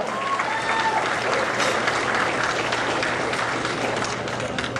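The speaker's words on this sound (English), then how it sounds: "Give a nice round of applause." A banquet crowd at an auto racing awards night applauds an honoree, a sustained, even wash of many hands clapping at moderate distance with a faint low hum beneath and no clear talk.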